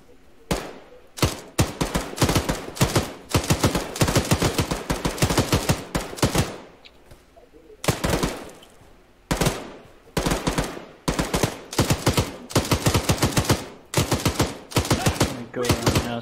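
Sustained automatic gunfire from a modern-warfare firefight in ARMA 3, loud rapid bursts of shots in long strings with brief pauses between them, the close rattling volleys dominating.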